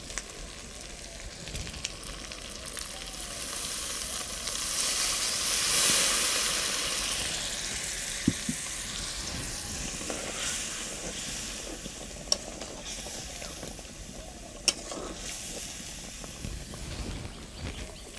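Chicken and pumpkin curry simmering in a pan gives off a steady sizzle and hiss that swells briefly as water is added, with a few sharp clicks of a utensil against the pan.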